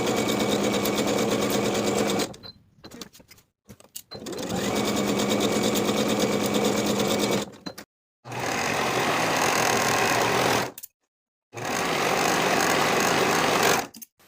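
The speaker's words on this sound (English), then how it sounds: "Sew both side seams with a 1/2 inch seam allowance" A sewing machine stitches the side seams of a skirt in four long continuous runs, loud and steady, separated by brief pauses.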